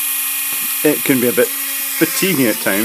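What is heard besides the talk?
drilling small holes in circuit boards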